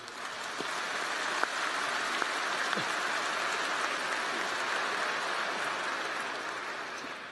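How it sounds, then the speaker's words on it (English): Sustained applause from a large audience at a spring university commencement ceremony, a steady dense wash of clapping with a few sharper claps standing out, holding evenly throughout. "Let's have a round of applause for these individuals."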